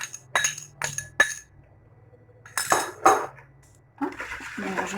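Tuna tortilla ingredients are stirred in a bowl, giving a few sharp clinks of utensil on dish in quick succession, then softer scraping and mixing sounds, close and clear with no talking.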